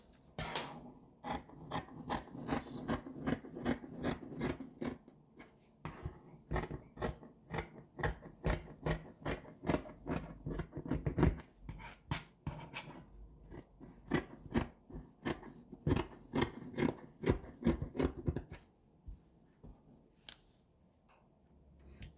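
Scissors snip through skirt fabric in a long run of quick, crisp cuts, close and fairly quiet, pausing briefly partway through and trailing off near the end, with no talking.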